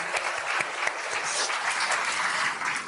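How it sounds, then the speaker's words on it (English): Audience applause at an International Women's Day event in Bangalore, a dense, steady clapping from a large crowd that holds at full strength throughout. "I do believe that your husband deserves a very big round of applause"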